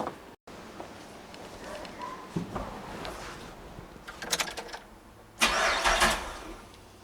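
LS-swapped V8 in a Toyota Celica GT-S, fitted with a 4T65/4L60 transmission, cranking and firing up in a garage. The engine turns over in bursts that grow louder toward the end.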